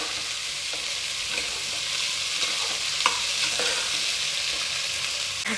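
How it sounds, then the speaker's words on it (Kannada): Onions fry in oil in a pan for a sprouted horse gram sambar, a steady close sizzle broken by a few sharp spoon scrapes and clicks as they are stirred, with no talking. "ಈಗ ಇಲ್ಲಿ ಈರುಳ್ಳಿ ಫ್ರೈ ಆಗ್ತಿದೆ."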